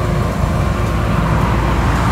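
A blue truck drives past on a muddy village road after heavy rains, its engine a loud, continuous low rumble close by, with no talk over it.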